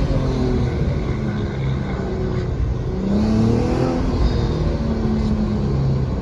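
Infiniti G35 fitted with a Magnaflow exhaust accelerating hard in paddle-shift mode and then downshifting, giving a steady, loud engine and exhaust roar that rises and falls through the gear changes without pause.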